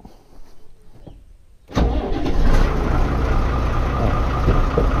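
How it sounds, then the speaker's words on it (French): A farm tractor's engine cranks after a quiet pause and catches abruptly, then settles into a loud, steady, rumbling idle right beside the listener. "maintenant on démarre le tracteur"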